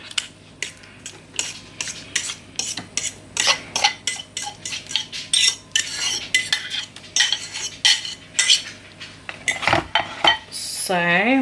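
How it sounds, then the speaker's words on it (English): Wooden spoon stirring mashed banana into dairy-free banana bread muffin batter in a bowl, a steady run of close scraping clinks against the bowl with brief pauses, ending in a louder knock or two. "And it says stir the bananas into the mixture."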